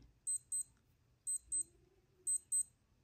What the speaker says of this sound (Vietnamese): hình như nó là báo thức mọi người ạ đấy nó kêu rồi đấy